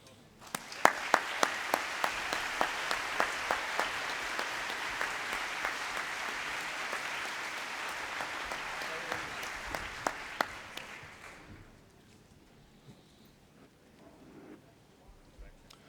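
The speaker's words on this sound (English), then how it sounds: "join me in a very warm round of applause for the Brian Sand Quintet" Audience applause for the Brian Sand Quintet, sharp claps swelling into steady clapping at moderate distance for about ten seconds, then dying away into a quiet room.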